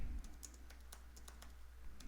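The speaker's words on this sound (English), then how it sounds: "I'm not typing very" Light, irregular keystrokes on a computer keyboard tap out short bursts over a quiet room hum, close and fairly soft, with no voices.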